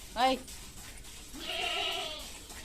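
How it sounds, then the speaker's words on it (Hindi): A goat bleats twice nearby: a short, sharp bleat, then a longer, wavering one about a second later, heard clearly against quiet household background. "अब इसको बकरी की आवाज़ आ रही है तो उसको भी सुन रही है"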